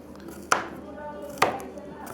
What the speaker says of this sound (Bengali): আমাদের রসুনটা কাটতে হবে ভালো করে,